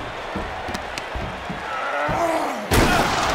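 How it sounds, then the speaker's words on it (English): Glass shattering as a wrestler is smashed through a pod in a WWE video game cutscene, a sudden loud crash at the end after a run of heavy thuds and slams over crowd noise. "Bobby launched through the pod glass"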